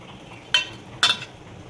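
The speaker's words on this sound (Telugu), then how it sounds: "బాగా కలుపుకోవాలి" A spoon clinks twice against a pan while stirring chickpea and mashed potato masala, two short sharp metallic taps over a quiet background.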